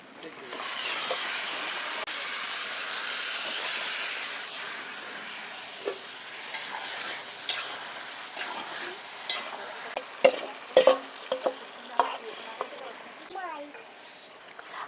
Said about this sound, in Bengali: পেঁয়াজ আর টমেটোটাও ভালো করে ভাজা হয়ে গেছে এখন দিয়ে দেব এই ম্যারিনেট করা মাংসগুলো